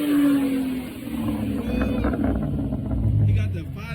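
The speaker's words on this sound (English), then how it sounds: "Rev it. Come on, man. Let me hear that shit." Car engine revving at a car meet, with a deep motor rising and falling amid outdoor crowd noise while people talk over it.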